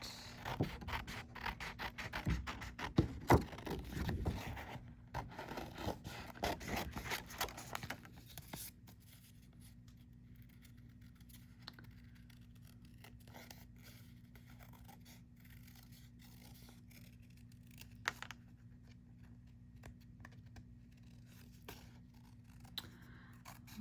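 Scissors trim a paper card for a handmade Valentine, with close snipping and rubbing in the first several seconds, then only faint occasional handling sounds.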